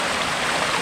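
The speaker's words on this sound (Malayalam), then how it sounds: "ഇതിലെയാണ് ആ തോട് പോണത്." A small stream rushes beside a road flooded by heavy rain, a brief, continuous watery hiss close by.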